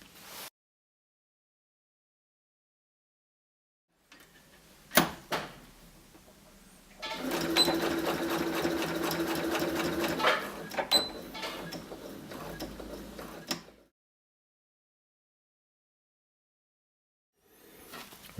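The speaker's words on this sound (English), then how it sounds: "now we're going to sew the top all the way around." A sewing machine stitches a trouser hem in one steady run of several seconds, whirring and ticking close by, with clicks and handling knocks before it and silence on either side.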